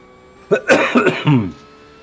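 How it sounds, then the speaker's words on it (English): A quick run of about four harsh coughs close to the microphone, then quiet room noise. "Open mic there. Cough, cough."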